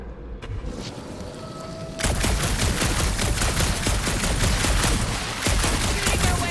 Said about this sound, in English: Shooting our way out of every problem again, Peter?